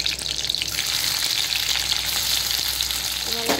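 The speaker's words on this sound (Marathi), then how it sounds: "कांदा टाकून घेऊया आपण आणि परतूया।" Onion and curry leaves fry in hot oil in a pan while cooking a fish curry, giving a steady, loud, dense sizzle that continues throughout with occasional stirring.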